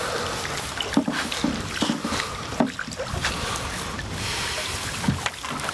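A canoe is handled at the water's edge, with a series of knocks and bumps against the hull over lapping water and light wind, close to the microphone and with no talk.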